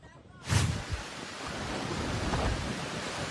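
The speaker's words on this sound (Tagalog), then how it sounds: "Naglalakihang mga alon na rin ang humampas sa tubig." Large waves crash during a typhoon: a loud surge breaks near the start, then a steady roar of churning surf and wind noise fills the rest with no voices.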